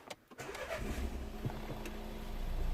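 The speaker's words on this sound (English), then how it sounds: "now I'm gonna start the car." Renault Megane III 1.5 dCi diesel engine cranking and catching, settling into a steady idle that builds slightly in loudness, heard close up with no talking.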